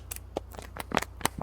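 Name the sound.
shaking a mystery box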